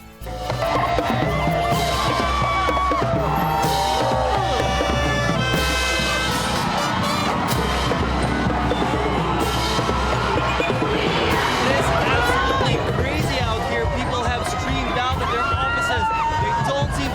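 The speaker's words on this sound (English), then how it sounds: "They don't seem to mind the thickness of the crowd." A packed crowd welcomes Miss Universe Pia Wurtzbach home in the Philippines, a dense, steady roar of cheering and babbling voices that fills the whole stretch, with individual shouts rising out of the hubbub.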